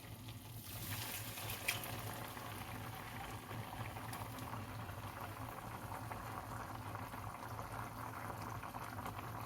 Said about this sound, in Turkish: şöyle hazırladığımız kuyruk yağımızı etimize döküyoruz